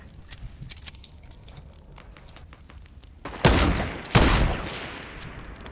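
Gunfire in the Fortnite video game, with scattered light shots crackling early, then two loud, close bursts around the middle that each ring out and decay, no talking during the shots.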